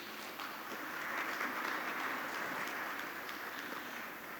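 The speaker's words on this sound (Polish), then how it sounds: "Wielkie brawa, dziękujemy bardzo." Applause fills a hall at a university inauguration ceremony in Białystok, a soft, even wash of many hands clapping at a distance, swelling slightly and holding steady.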